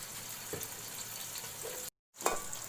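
Onions sautéing in a pan for a chicken, capsicum and potato curry, giving a continuous soft sizzle with a few spatula scrapes, broken by a brief silent gap before the frying resumes.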